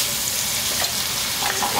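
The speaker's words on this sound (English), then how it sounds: "At this point, I'm gonna go in with onions. Quite a bit of onion. Gonna hit that to stir." Plenty of onions frying in a chili pot and being stirred, a dense close sizzle with soft stirring scrapes throughout, no speech.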